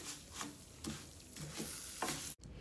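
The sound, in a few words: rice being stirred and toasted in a pan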